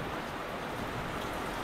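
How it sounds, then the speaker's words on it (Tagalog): Rain falling on a farm, a steady, even hiss of dense rainfall with no distinct drops or voices, continuous throughout. "Ayan, ulan."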